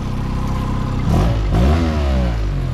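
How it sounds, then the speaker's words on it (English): An outboard boat motor at a dock, already running with a steady low drone, then revved twice so the pitch climbs and falls back toward idle, loud and close. "We're gonna get this motor to start idling down."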